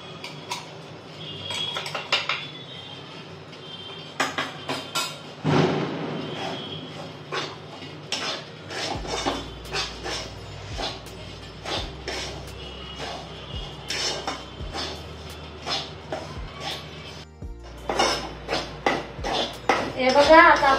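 Ground moong dal dry-roasts in a pan for moong halwa as a utensil stirs it, giving irregular metallic clinks and scrapes of the spoon against the pan, some bursts louder and quicker than others.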